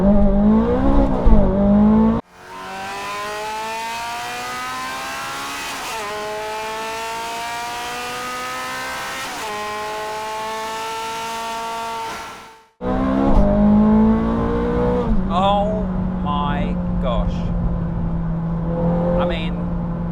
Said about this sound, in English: What makes the Ferrari 430 Scuderia so special to drive? Well, the first thing is the sound.